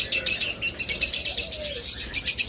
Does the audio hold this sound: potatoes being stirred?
no